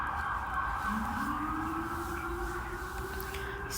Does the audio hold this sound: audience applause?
no